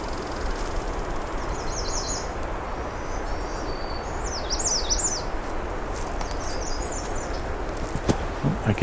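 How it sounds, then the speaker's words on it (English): A myrtle warbler, or yellow-rumped warbler, gives short high calls on a June afternoon at Pine Tree Point, faint and scattered over steady outdoor hiss. "I can hear the ticking of a myrtle warbler, also known as yellow-rumped warbler."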